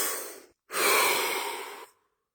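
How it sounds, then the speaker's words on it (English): A short inhale is followed by a pause and then a long, full exhale through the mouth, close and clear in a quiet room, with no talking. "Take a breath."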